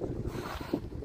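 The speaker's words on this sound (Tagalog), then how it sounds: "Sobrang hangin. Hangin na malamig." Strong, cold spring wind gusting steadily across the microphone, a close, rumbling buffet that swells and dips without pause, with no voices present.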